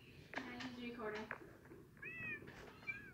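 Indoor cat giving two drawn-out meows, one after the other, close by and fairly quiet against a low room hiss.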